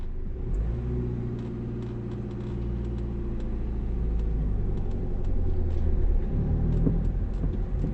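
A car engine driven by a learner practising starting, gear changes and stopping: a steady low idle rumble that swells as the engine revs up and pulls away, close and continuous with no talking.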